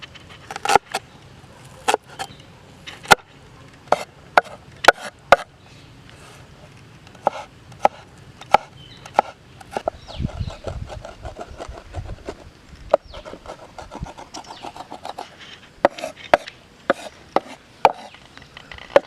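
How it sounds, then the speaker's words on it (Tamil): A knife chops onions on a board in sharp, quick strikes, coming in bursts with short pauses, close and clear with no voices. "முறையாக வெங்காயத்தை கைமா பண்ணது"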